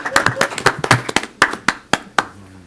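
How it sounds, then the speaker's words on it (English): Audience at a city council meeting breaks into a round of applause, a brisk run of sharp, close hand claps that thins out to a few scattered claps by the end. "her a round of applause."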